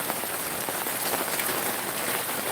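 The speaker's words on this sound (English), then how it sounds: "It rains, and it rains a lot." Steady rain falls in coffee country, a dense, even hiss of drops hitting surfaces that stays constant and fairly loud throughout, with no voices.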